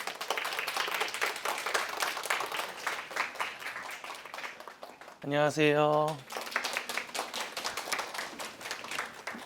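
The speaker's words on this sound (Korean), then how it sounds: "큰 박수로 모시도록 하겠습니다" Enthusiastic clapping from an audience at a prenatal class event, welcoming a tenor with dense, rapid claps that pause while a man briefly greets the crowd, then resume just as strongly.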